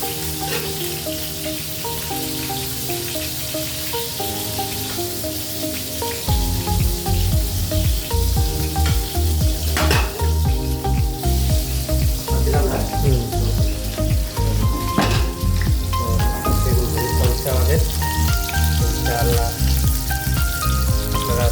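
Eggplant slices frying in a pan, a steady dense sizzle that swells louder partway through and continues with crackling pops, close and alone without speech.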